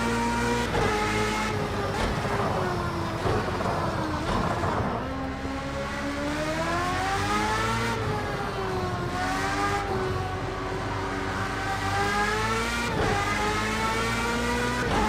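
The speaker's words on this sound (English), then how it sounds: "you can hear those guys catching up pretty good" Race cars in the racing video game Project CARS 2, engines droning and revving continuously with gear-shift dips and rising pitch sweeps as rival cars close in, loud and sustained.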